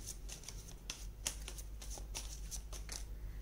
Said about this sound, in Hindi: और कार्ड्स निकालते हैं।